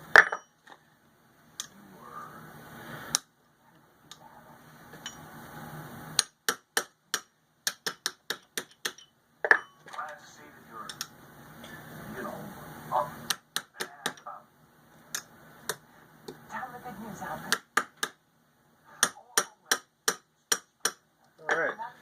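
Sharp metallic taps of a brass hammer on a Suzuki Samurai CV axle in quick bursts of several strikes, separated by pauses, with a quieter rustle of handling between them, fairly close.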